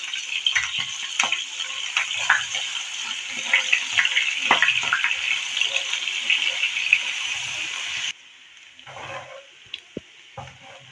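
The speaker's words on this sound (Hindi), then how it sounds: "अब हम इसमें ये थोड़े से प्याज जो मैंने शामिल कर दिए," Chopped onions sizzle in hot oil for a mustard greens saag tadka, a crackling fry with stirring scrapes for about eight seconds before dropping to faint kitchen sounds and a few clicks.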